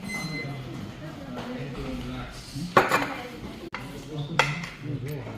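Metal spoons and forks clink against plates during a family birthday meal of Manchurian rice, a few sharp chinks standing out over steady chatter in the room.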